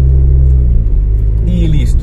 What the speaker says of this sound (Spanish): Acelero constante y voy sacando el embrague suavecito.